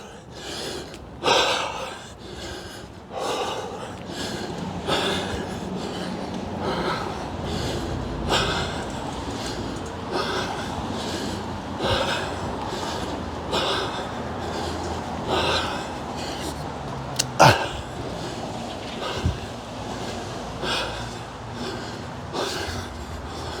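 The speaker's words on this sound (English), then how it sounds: "I'm still breathing, pronounced, but much better than when I reached the top." Heavy breathing from a 66-year-old man after rucking up a steep hill, loud close gasps and snorting exhales repeating every second or so, with a few sharp bumps in between.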